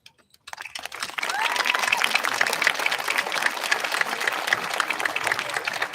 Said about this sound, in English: would you please stand at this time so we can once again applaud and honor your hard efforts